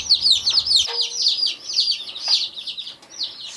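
A crowd of baby chicks peeping constantly, high rapid chirps overlapping close by, with a brief low thump partway through.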